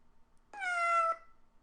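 A synthesized cat meow played from Alice 2.4 animation software, a single clear, slightly falling meow lasting about half a second, clean and isolated against near silence.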